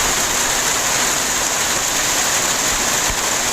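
Rain falls steadily outside in a thunderstorm, a dense, unbroken wash of noise at constant loudness, with no voices or other distinct sounds.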